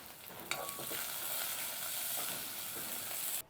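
Mustard seeds and fennel seeds spluttering in hot oil in a home kitchen pan, a steady close sizzle with sharp pops and crackles throughout, no voices.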